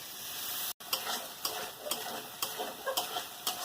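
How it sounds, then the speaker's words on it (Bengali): A spice paste of chili powder, turmeric, tomato and ground-spice water is stir-fried in a pan, giving a steady sizzle with a regular series of scraping strokes and one brief break near the start. "এরকম ভালো করে মশলাটাকে কষিয়ে নেব"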